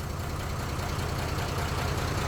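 A combine harvester with an Isuzu engine runs at a steady, low, rumbling throb, close and continuous with no pauses.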